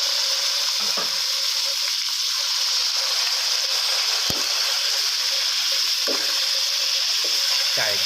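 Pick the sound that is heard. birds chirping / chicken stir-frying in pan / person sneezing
chicken stir-frying in pan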